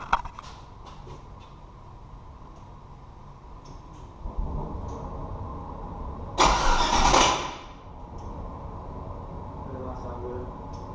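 An LS V8 swapped into a Ford Ranger cranks on its first start attempt, a rising mechanical churn followed by a loud harsh burst, then a lower rumble, with voices heard in the background.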